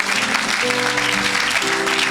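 A church crowd cheers and applauds in acclamation of Jesus Christ during an evangelical deliverance service, a dense, steady wash of clapping and voices with sustained tones running beneath it throughout.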